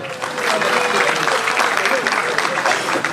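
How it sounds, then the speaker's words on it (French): Audience applause at the Night of African Excellence gala in Reims fills the room, steady and dense throughout, with voices mixed into the clapping. "Est-ce qu'on peut applaudir pour la nuit de l'excellence, s'il vous plaît?"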